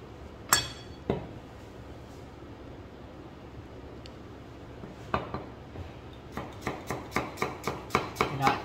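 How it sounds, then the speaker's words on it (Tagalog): A knife chops sausage finely on a board: two sharp cuts, then a pause, then a steady run of quick, even chops that grows denser toward the end, close and crisp. "Iwain natin ng pinong-pino ito."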